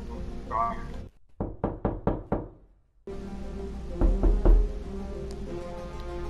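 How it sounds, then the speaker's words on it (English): A video game character knocks on a door five times in a quick even sequence, crisp and close, after a brief spoken line; a few heavier thuds follow later over a steady background hum. "I'm gonna knock"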